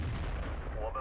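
A tank gun firing in World of Tanks, a heavy booming blast with a rolling low rumble that fills the whole moment, loud and close.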